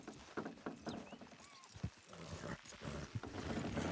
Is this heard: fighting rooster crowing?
no